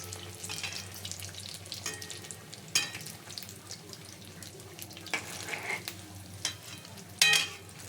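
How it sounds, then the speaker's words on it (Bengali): Potato chops deep-fry in hot oil in a home kitchen, turning golden-red, with a continuous close sizzle and bubbling, and sharper bursts of spatter as the pieces are stirred or turned. "প্রায় লাল লাল হয়ে গেছে, ওপাশটা হয়নি, ভালো করে ভেজে নিই।"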